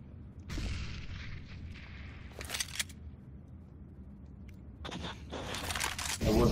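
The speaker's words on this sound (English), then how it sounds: "Grenade out." Grenade blast in Counter-Strike: Global Offensive, several sharp bursts and booms spread across the moment over a low rumbling game backdrop, the loudest crack arriving at the end.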